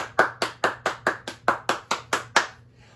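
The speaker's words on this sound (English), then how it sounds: "Round of applause." Applause for a teacher during a school shout-out: about eleven crisp hand claps in a steady, even rhythm, close and distinct, ending with a quiet tail and no talking.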